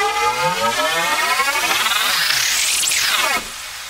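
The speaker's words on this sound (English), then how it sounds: "Harsh Riser. Love this one. Just really ramped up build." A harsh Omnisphere synth riser climbs steadily in pitch with layered, buzzing harmonics, building loud and dense before cutting off abruptly near the end.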